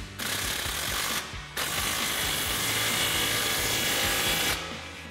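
An impact wrench fitted with a 15 mm socket tightens an exhaust clamp on a Toyota 4Runner during a cat-back exhaust install, giving two loud close rattling hammering bursts with a brief pause between them.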